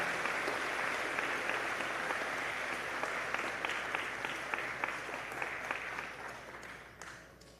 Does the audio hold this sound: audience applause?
yes